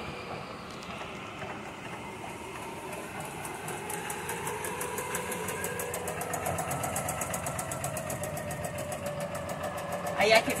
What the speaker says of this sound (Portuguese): está a máquina trabalhando e fazendo os bordados da Virgínia